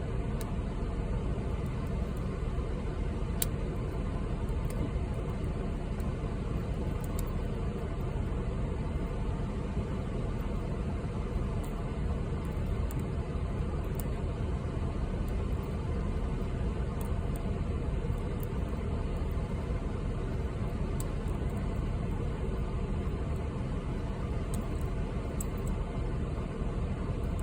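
An air conditioner cranked up high on a roughly ninety-degree day gives a loud, steady broadband whoosh and rumble that holds unchanged for the whole stretch, with no talking.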